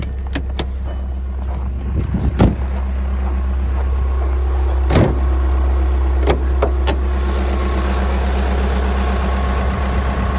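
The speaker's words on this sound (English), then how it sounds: "So this has the CBEA engine in it." A Volkswagen TDI diesel engine with half a million miles idles steadily with a low rumbling drone, close by, with a few sharp clicks and knocks scattered over it.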